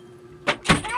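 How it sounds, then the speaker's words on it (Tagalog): A door is pushed shut with two quick, close thuds in under a second, the second heavier, against a quiet indoor background. "Sinara niya yung pinto."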